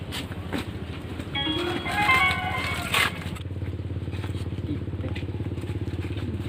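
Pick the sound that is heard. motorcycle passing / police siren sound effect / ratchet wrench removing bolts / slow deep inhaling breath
motorcycle passing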